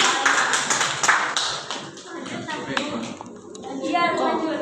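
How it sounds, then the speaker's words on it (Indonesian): A class claps for a student who answered correctly, a burst of close, overlapping hand claps with children's voices mixed in that fades over a few seconds. "Tepuk tangan untuk Mbak."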